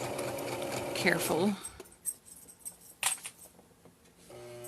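A sewing machine runs a short burst of rapid stitching over the edge of a fabric journal pocket, then stops, followed by someone talking near the mic amid small clicks and handling noises.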